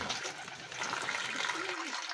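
Well water drawn from a hand pump being poured into a container for pigeons, a soft continuous splashing trickle, close and fairly quiet.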